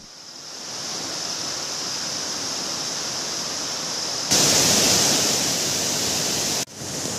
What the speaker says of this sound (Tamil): மழையின் காரணமாக அணை முழுவதுமாக நிரம்பி மறுகால் பாய்கிறது